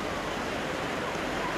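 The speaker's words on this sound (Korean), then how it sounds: "서서히 배는 폭포의 물줄기로 다가갑니다." Niagara Falls in Canada roaring as a tour boat edges toward the falling water, a steady, dense broadband rush of pouring water that fills the whole stretch without a break.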